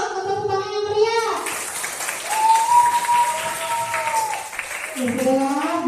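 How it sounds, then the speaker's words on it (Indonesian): Schoolchildren applaud in a classroom, a steady dense wash of clapping lasting several seconds, with a voice speaking over it at the start and again near the end. "Tepuk tangan yang meriah."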